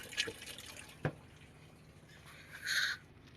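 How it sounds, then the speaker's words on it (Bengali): Water drips and splashes from the drain of a fully automatic washing machine, with a few separate drops and a short gurgling spill, faint and close in a quiet room. "জল পড়ছে"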